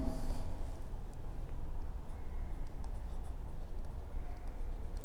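Pen writing on paper during a grid-square revision lesson, faint soft scratching strokes in short bursts over low room noise.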